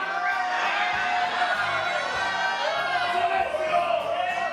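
A lucha libre wrestling crowd roars steadily throughout, a dense mass of cheering, whooping and shouting voices that stays loud and sustained without a break.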